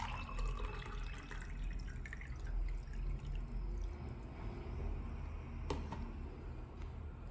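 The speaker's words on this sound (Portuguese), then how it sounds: "adicionar 200 ml de água" Water poured into a cup resting on a digital kitchen scale, a steady low liquid rush and trickle continuing throughout with a brief splash near the end.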